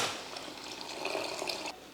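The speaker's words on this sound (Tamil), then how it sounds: "ஒரு நெல்லிக்காய் அளவுக்கு புளி எடுத்து கரைச்சி வச்சுருக்கேன், அதையும் சேர்த்துடலாம்." Dissolved tamarind water is poured into a pot of rasam, a steady soft splashing and gurgling pour lasting a couple of seconds, close and fairly quiet.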